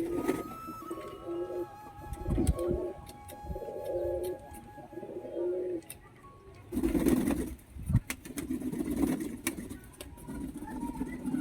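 Pigeons coo after being given a bath, low rolling calls repeating close by alongside faint mechanical rattling and brief knocks.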